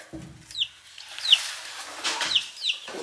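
Backyard hens cluck in a few short, close bursts, with quiet gaps between the calls and no talk over them.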